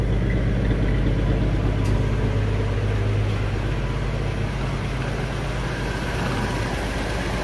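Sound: Holden EJ car engine idling

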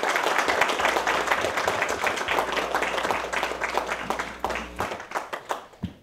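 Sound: applause welcoming the US embassy representative

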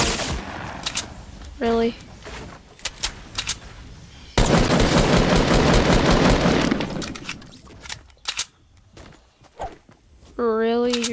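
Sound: gunfire in a video game

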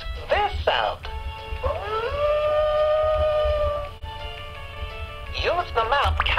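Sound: wolf howling, sound from a kids' learning toy laptop

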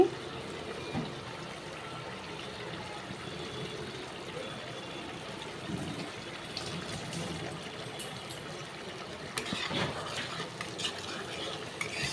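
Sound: spice paste bubbling in oil on high gas flame

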